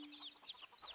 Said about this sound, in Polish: jak te kury gdaczo